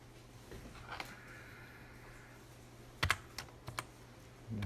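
A few sharp computer keyboard key presses in AutoCAD, the B key and Enter, tapped in a small cluster of close clicks over a quiet room hum.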